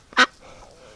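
A single short, sharp quack from a small duck, close and clear, followed by quiet room noise.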